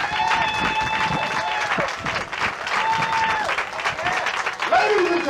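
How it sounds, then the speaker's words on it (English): An audience at a youth summit applauds representatives called to the stage, a continuous wash of clapping with a tonal hum or music running through it. "Y'all give them a round of applause."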